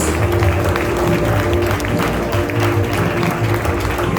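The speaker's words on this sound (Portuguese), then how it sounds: "você pode aplaudir bem forte o nome de Jesus" An audience at a church family conference applauds loudly, a thick, continuous wash of clapping that stays strong from start to finish, with faint voices mixed in.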